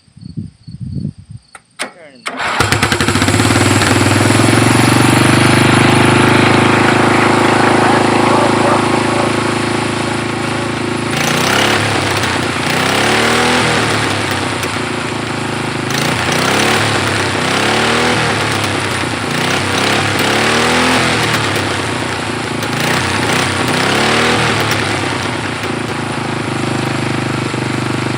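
Racing tractor engine cold-starting with a few quick sputters, then catching into a loud, sustained roar with rising and falling revs, close by, with a brief voice at the start.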